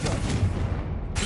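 A Confringo fire-blast spell in Hogwarts Legacy bursts in a short, loud boom, right after a spoken spell word.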